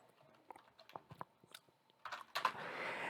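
Quiet, irregular tapping of keys on a computer keyboard during data entry, close and faint, followed by a denser burst of louder clattering near the end.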